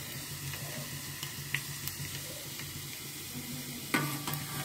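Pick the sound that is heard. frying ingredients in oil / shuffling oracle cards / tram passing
frying ingredients in oil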